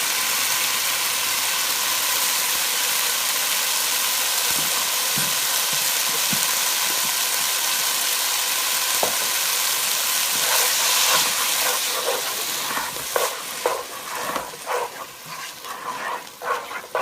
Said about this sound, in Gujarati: હવે આપણે નાખશું એનું ટમેટો સોસ એની અંદર